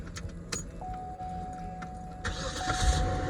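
A Cadillac engine cranks and starts near the end after some clicking and key handling, then runs with a steady hum.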